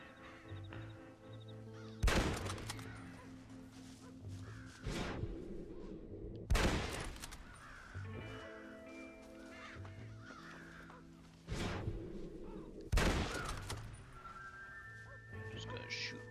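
Gunshots fired at crows in the Western video game Red Dead Redemption, four loud sharp cracks spaced a few seconds apart, with caws and game ambience between and a voice talking through it.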